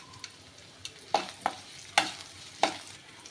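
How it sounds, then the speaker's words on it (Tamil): Garlic and onion sautéing in a pan with dried chillies, a soft sizzle broken by four or five sharp scraping strokes of a spoon against the pan. "பூண்டு வெங்காயம் நல்லா வதங்கி வந்திருக்கு பாருங்கள்."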